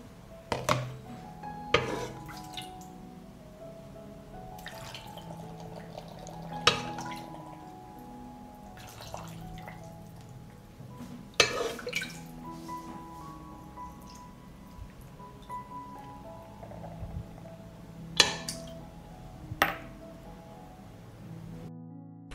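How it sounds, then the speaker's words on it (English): Marinade is spooned and poured into glass jars of peppers in a kitchen: quiet liquid trickles and drips, punctuated by scattered sharp clinks of glass and utensils, close and fairly soft, with no voices. "I will fill the jars with marinade."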